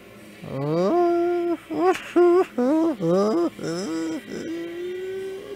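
During a tabletop roleplaying game on ice, a voice imitates howling wind in a series of loud, rising and falling wavering wails, some drawn out and some broken into short bursts.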